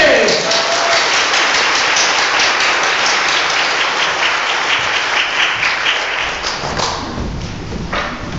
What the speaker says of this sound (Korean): 그러면 한번 그분 박수로 한번 초청해볼까요?